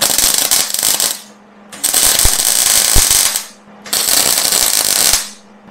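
Arc welding on rusty, undercoated steel gives a loud, harsh crackling sizzle in three long bursts, each lasting one to two seconds with short quiet gaps between them.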